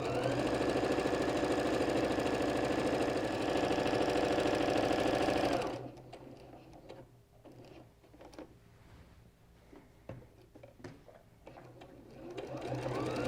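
Sewing machine basting the edge of a quilted table runner at its longest 5 mm stitch length, a loud steady mechanical whir lasting about six seconds before stopping, followed by quieter handling noises.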